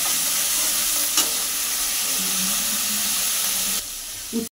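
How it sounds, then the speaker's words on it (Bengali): Onion paste with slit green chillies frying in hot oil, a continuous close sizzle with a few light stirring knocks. "দিয়ে পেঁয়াজটা তেলের মধ্যে ভেজে নেব কিছুক্ষণ"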